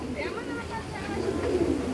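Imported long-distance racing pigeons coo in soft, wavering low calls inside a loft, close by, under a murmur of voices.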